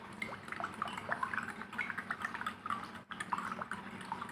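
Light clinking of a teaspoon against a glass as a sugar solution is stirred, quick irregular taps close to the microphone.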